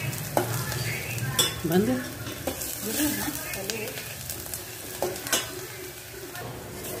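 Frying in a pan on low gas until golden brown, heard as a steady sizzle with scraping stirring strokes close by and brief bits of talk over it.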